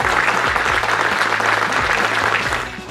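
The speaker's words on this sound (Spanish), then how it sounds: "Y que yo les pido el aplauso a ellos." Dense, continuous audience applause at an event, loud and steady throughout before easing slightly at the very end.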